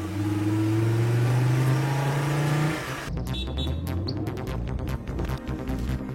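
A car engine revs and accelerates with a rising, steady drone, then the sound shifts as the vehicle pulls away, loud and close throughout.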